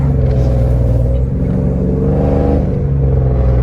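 A Jeep Commander fitted with a new intake manifold and a 95mm throttle body pulls hard uphill, its engine a loud, steady rumbling roar that rises with acceleration, close and unbroken.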